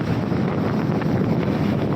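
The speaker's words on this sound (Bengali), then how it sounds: "বিশাল একটা ঢেউ আসছে বিশাল" Large ocean waves rolling in at Digha beach on the Bay of Bengal, a steady loud roar of surf mixed with heavy wind buffeting the microphone, continuous for the whole stretch with no voices.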